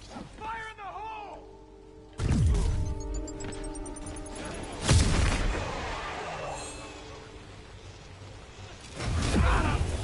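Heavy booms and crashing impacts in a Spider-Man video game land several times amid whooshes and clatter, loud and close, with a voice talking over part of the action.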